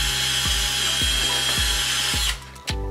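A power drill bores a hole through an MDF cake-board disc, a steady high whine with a rhythmic low pulsing roughly every half second, close and loud, before the motor cuts off and stops.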